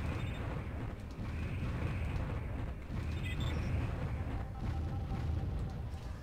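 Laser satellite firing in the strategy video game Warzone, a loud, sustained roaring rumble with crackling bursts that holds steady for several seconds, with no talk over it.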